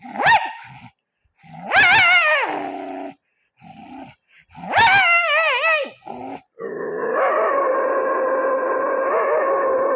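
A voice imitates two powerful dogs fighting, with loud snarling growls and sharp yelping bursts separated by short pauses, then a sustained rough growl to finish.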